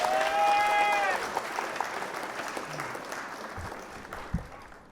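A concert crowd in Topeka applauds and cheers, loud at first then tapering off, with a few scattered claps and shouts lingering near the end.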